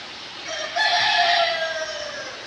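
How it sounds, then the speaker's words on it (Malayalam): A rooster crows once nearby, a loud drawn-out cock-a-doodle-doo rising and then trailing off over steady background noise. "ഇടക്കിടക്ക് കോഴിൻ്റെ ഒച്ചയ്ക്ക് ശബ്ദമൊക്കെ ഉണ്ടല്ലേ"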